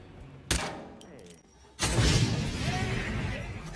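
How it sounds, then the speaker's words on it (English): Two gunshots hit a propane cylinder in the Hitman 3 video game, a sharp crack followed by a louder blast that rolls into a sustained roar and rumble, with faint game sounds in between. "We're going to crouch down and line up our shot, and we're going to take 2 nice steady shots at the propane cylinder."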